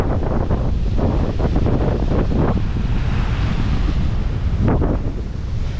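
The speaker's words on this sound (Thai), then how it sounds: "คลื่นแรงแล้วก็น้ำขุ่นกว่าตรงจุดที่กัปตันอยู่อีกอ่ะ" Strong sea waves crash and churn off an island coast beneath steady, heavy wind buffeting the microphone, a loud continuous roar with surges of surf swelling throughout and no voices.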